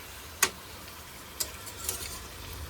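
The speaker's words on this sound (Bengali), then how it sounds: "ম্যারিনেট করা মাংস তেলে ছেড়ে দিয়েছে, দিয়ে আমি এবার ওলট পালট করে নেড়ে নিচ্ছি।" Marinated chicken is stirred and turned in hot oil in a pan, making three sharp, brief clinks and scrapes spaced about a second apart over a faint, low background.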